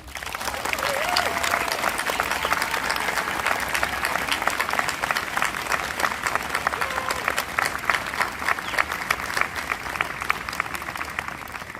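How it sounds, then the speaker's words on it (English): Crowd at a school moving-on ceremony applauding the graduating class, with loud, continuous clapping and a few crisp individual claps. Faint voices and a whoop or two sit under the steady applause. "please join me in applauding the class of 2023"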